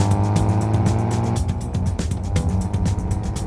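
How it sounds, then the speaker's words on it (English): A police motorbike engine revs hard at full throttle, a loud, steady, close drone with rapid pulsing changes as it speeds along. "Lucy opens up the throttle to get there as fast as she can"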